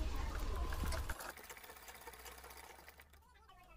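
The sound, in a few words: sewing machine stitching cloth for a Laddu Gopal dress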